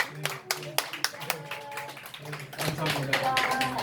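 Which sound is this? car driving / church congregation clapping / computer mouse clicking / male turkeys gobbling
church congregation clapping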